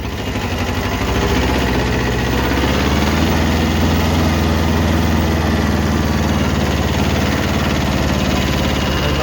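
A Kubota B5001 mini tractor's small diesel engine runs steadily near the microphone, a loud continuous chugging drone with a faint rise in revs near the start and no pauses.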